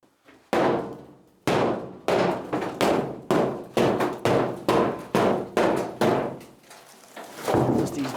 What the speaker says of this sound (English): Let's break this wall a little